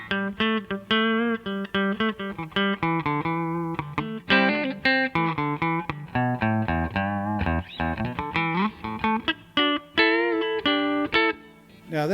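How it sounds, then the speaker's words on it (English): Electric guitar on a humbucker combined with the back pickup, a thin, bright tone; a steady run of picked notes and chords played close and clean without talk. "this is the humbucker plus the back pickup. It's a really thin sound"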